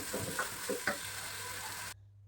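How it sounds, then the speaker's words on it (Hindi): Onions browning in oil inside a pressure cooker, a soft continuous sizzle with a few stirring scrapes, fairly faint, cutting off abruptly near the end. "मैंने इकट्ठे ही ज़्यादा सारे प्याज रख के ना कुकर में ही ब्राउन कर लिए थे"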